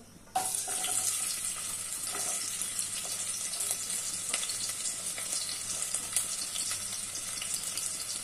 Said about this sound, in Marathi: कांदा टाकूया।